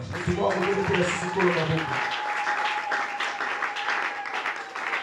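A church congregation at a deliverance seminar claps steadily and warmly, with a voice speaking over the start before the applause carries on alone as a dense, sustained patter.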